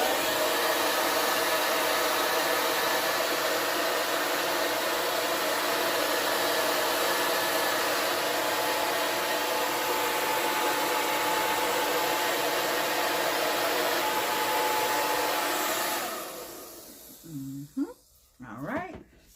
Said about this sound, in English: Take that blow dryer.